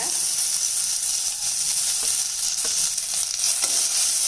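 Onion, carrots and beans sauté in a pan with a steady, close sizzle and hiss, broken by a few faint stirring clicks, with no voices.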